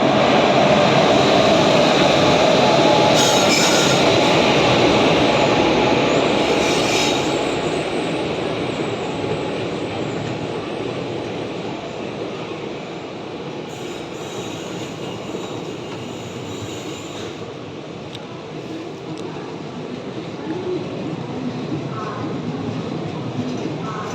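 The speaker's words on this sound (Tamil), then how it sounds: "இதாங்க இது Mettupalayam Nilgiri super fast express" The Mettupalayam Nilgiri Superfast Express runs at speed, a loud continuous rumble and wheel roar heard from inside the train, easing slightly in level over the stretch.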